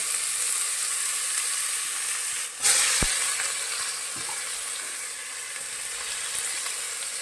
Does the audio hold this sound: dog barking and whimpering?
no